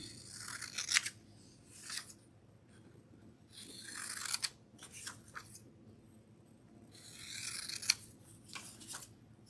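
Scissors snip close by, cutting out paper pictures in a small classroom-style setting, with quiet, scratchy bursts of cutting separated by pauses, fairly faint against a soft room hum.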